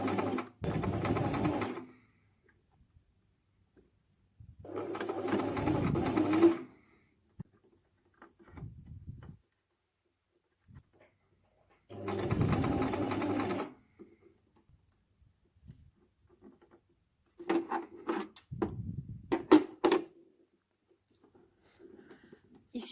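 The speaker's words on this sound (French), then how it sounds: "Et je vais commencer à coudre." A home sewing machine stitches a fabric bag organiser in four short bursts of fast whirring, each lasting one to two seconds, separated by near silence with faint clicks of handling.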